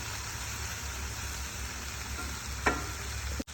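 Eggs frying in a pan, a steady close sizzle throughout with a brief clack of a utensil near the end.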